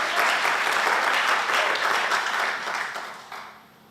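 Sustained applause from a church congregation during a Sunday worship service, a thick wash of many hands clapping at once that thins out and dies down near the end.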